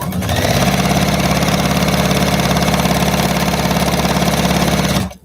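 Sewing machine stitching a quilt block, a steady fast mechanical whir running continuously and close for about five seconds before stopping abruptly.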